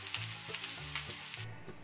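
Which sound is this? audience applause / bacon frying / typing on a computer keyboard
bacon frying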